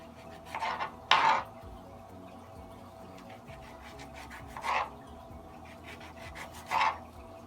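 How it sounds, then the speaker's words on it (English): A knife slices a lemon into rings on a board, giving four short, separate cutting strokes, close and fairly faint, with quiet pauses between them. "I'm gonna take my lemon, and I'm just gonna slice them"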